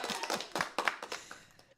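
A short burst of hand clapping welcomes a show guest, about a dozen quick, close claps that trail off into quieter taps.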